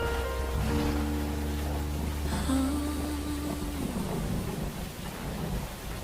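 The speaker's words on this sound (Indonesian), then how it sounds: "Mana hujan belum reda lagi." Heavy rain falls steadily with rumbling thunder building and fading, loud and enveloping, as a tonal hum sounds briefly underneath; no voices are heard.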